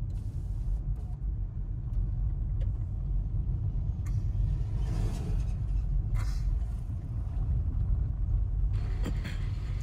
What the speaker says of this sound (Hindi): बहुत लंबा ट्रैफिक जैम है लगा हुआ।